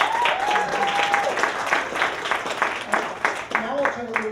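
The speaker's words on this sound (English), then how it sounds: "you guys are applauding me and yelling for me." A stand-up comedy audience at the Metropolitan Room applauds with scattered clapping and whistles, while voices and a few shouts rise over the steady patter.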